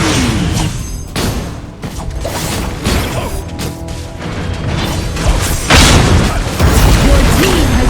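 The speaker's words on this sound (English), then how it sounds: "Your team has destroyed a tower" A tower being destroyed in Arena of Valor, a 5v5 battle game played on Nintendo Switch: dense, loud crashing booms and mechanical clatter layered over continuous game effects and music, with no voices.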